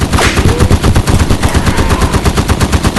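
Automatic gunfire in Polyfield 2 rattles loud and close in rapid, evenly spaced bursts that run for the whole stretch without pause.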